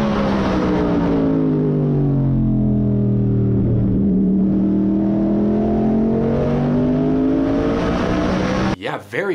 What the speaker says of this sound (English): a brief onboard clip from their Ford Mustang next-gen car, supposedly, running a lap at Martinsville